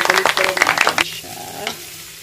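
Shrimp frying in a pan, a loud close sizzle broken by rapid stirring and scraping at first, then settling into a steadier, quieter hiss.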